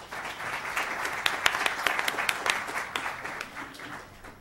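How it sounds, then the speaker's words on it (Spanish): Workshop audience applause, a steady patter of many hands clapping at moderate distance with a few sharper claps standing out, fading toward the end. "Un aplauso, por favor."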